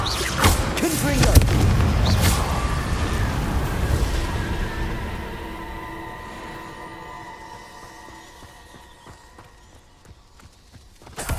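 A Confringo fire spell explodes in the Hogwarts Legacy video game: a loud, booming blast up front that rumbles and slowly fades over several seconds, ending with a small fresh crack.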